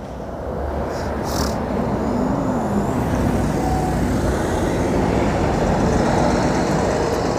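A bus at a station in Erbach passes with a loud, steady broadband roar that swells in and holds throughout, with a brief hiss early on.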